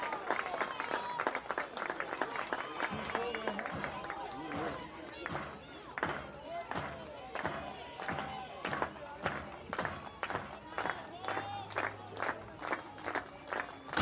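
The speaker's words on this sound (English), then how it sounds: "Crowd comes to life." Crowd at a college softball game between Oklahoma and Kansas clapping in a rhythmic, evenly spaced beat with scattered cheers, heard from a distance under a commentator's talk.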